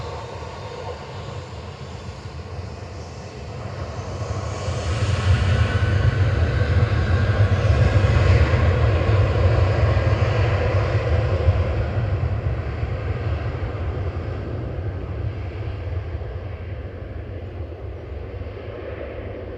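A TUI jet departing Manchester Airport for Geneva makes a broad engine roar that swells to a peak midway and slowly fades, heard from a distance with no talk.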